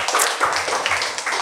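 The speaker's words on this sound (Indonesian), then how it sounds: "Mari tepuk tangannya, manusia-manusia privilege" A stand-up comedy crowd claps for comedian Budi Adiputro, a close, continuous patter of hands with no voices over it.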